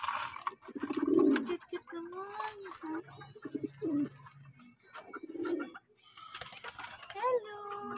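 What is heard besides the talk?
pigeons cooing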